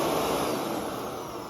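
A Shark Navigator upright vacuum cleaner runs with its brush roll on, giving a steady, loud, broadband motor roar with little variation, alone throughout.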